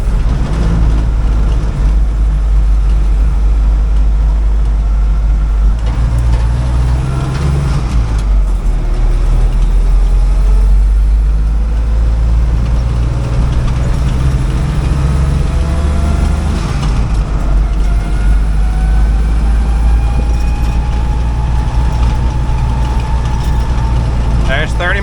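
A 1956 Willys CJ5 with a newly fitted engine drives along, its loud low engine drone rising and falling through a downshift, with road and mechanical rumble close throughout and talk heard over it.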